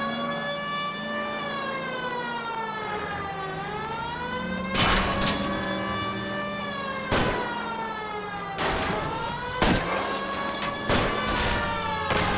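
Gunfire aimed at a fleeing car's tires during a shootout in the LA Noire video game: several loud sharp shots at irregular intervals over a steady wailing police siren, with no talk.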